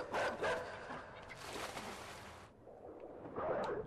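A dog in the video game Inside barks in a few short, sharp bursts at moderate volume, with brief pauses between them.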